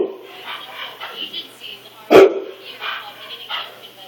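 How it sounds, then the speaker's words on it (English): A single sharp dog bark from a television program rings out midway, loud and close, amid ongoing voices and sounds from the show. "Is there a dog on TV?"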